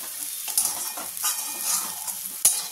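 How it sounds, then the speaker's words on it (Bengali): Onions fry in a pan with a steady bright sizzle, broken by several soft scrapes and stirs and one sharper clack near the end. The cooking is close and alone, with no talking. "আমার পেঁয়াজটা মোটামুটি ভাজা হয়ে গেল"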